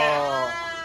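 A sheep at a livestock market gives a loud, close, sustained bleat that trails off over about a second, with no talking over it.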